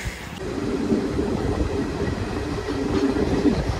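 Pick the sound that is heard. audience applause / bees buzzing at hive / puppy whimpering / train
train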